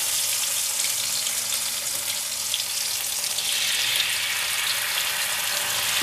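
Ginger garlic paste sizzling in a frying pan while cooking Bengali-style chicken-stuffed pointed gourd: a steady, hissing fry that brightens partway through, with no talking.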